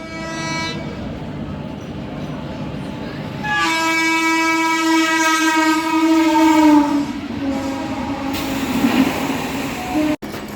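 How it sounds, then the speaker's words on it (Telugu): Train passing at Garividi station, heard close up with a steady rumble, wheel clatter and a long, loud multi-tone horn blast that sustains for several seconds before fading. "గరివిడి స్టేషన్లో ఏదో మనకు ట్రైన్ ఒక క్రాసింగ్ అవుతుంది చూడండి"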